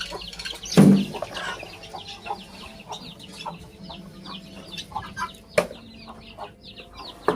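Guinea fowl on a farm cluck in a series of short, scattered calls, with one louder burst near the start and another midway, over a soft, busy outdoor background.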